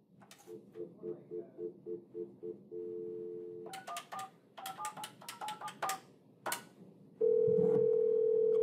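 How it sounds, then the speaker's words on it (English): A Grandstream GXP2170 IP phone calls a cell phone: a run of short repeated ringback pulses, then a steady tone, keypad-style beeps and clicks, ending in a loud sustained tone close to the handset. "You hear it's ringing."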